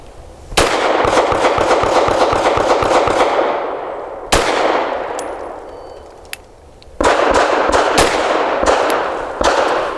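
An FN 509 Midsize pistol fires Federal Syntech Training Match 124 grain rounds in three fast strings of sharp, loud reports, each string ringing out with a clanging echo before the next burst.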